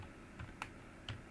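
Keys tapped on a laptop keyboard while entering a Linux terminal command, a few sparse, quiet clicks spaced across a second with faint room hiss and no talking.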